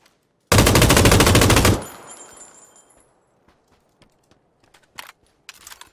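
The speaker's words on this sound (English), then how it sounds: "I just shot a couple bullets" Rapid automatic gunfire in PUBG, one loud sustained burst of about a second that cuts off into a fading echo, followed by faint clicks and short metallic clacks of a reload.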